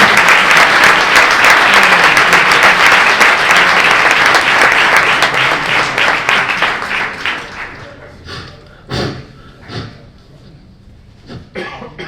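An audience at a lecture on solar eclipses applauds loudly for several seconds, then the clapping thins out into scattered claps and a few coughs.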